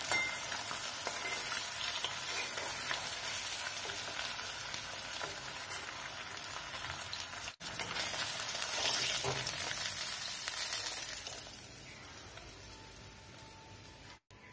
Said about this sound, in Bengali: বাকি মাছটাও ভেজে নেব।